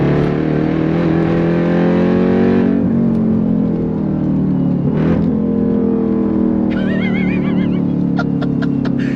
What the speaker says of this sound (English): I hear some of that supercharger whine.